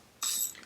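A ratchet clicks as it undoes 17mm bolts on a Citroën 2CV engine, a short close burst of rapid metallic clicking that fades after a fraction of a second.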